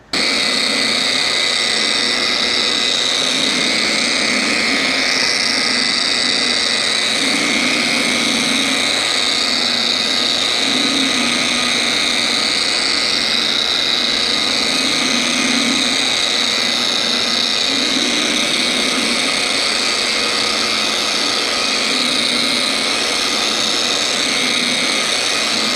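A polisher fitted with a soft foam pad and polishing compound runs in a loud, continuous high whine with a steady motor drone underneath, holding level throughout.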